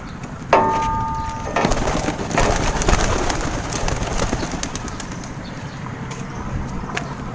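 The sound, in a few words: pigeons cooing and flapping during training toss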